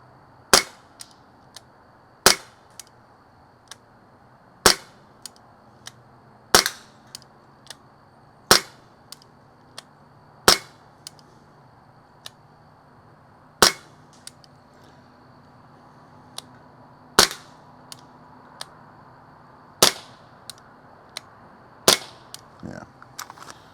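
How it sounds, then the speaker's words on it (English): Pistol shots fired at a range target, about a dozen sharp, loud cracks spaced irregularly a second or two apart, each with a short ringing tail over faint background noise. "I always like to take a couple extra shots just to make sure."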